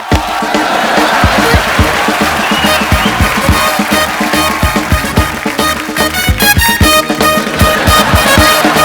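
Loud, sustained applause and cheering from a studio audience on an Indian comedy talk show, welcoming actress Anushka Sharma; dense rhythmic clapping fills the whole stretch with crowd shouts mixed in, no speech over it.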